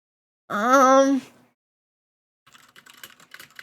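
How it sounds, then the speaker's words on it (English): Typing on a computer keyboard, a light run of quick irregular key clicks at close range, starting after a short spoken word and a pause. "Here, I'm typing one."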